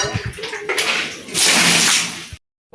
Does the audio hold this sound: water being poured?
yes